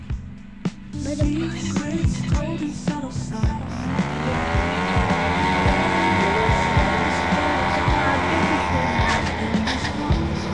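Motorbike engine revving and tires skidding in the video game Mad Out 2, a rising engine whine with squealing skids and clunks, loud and close.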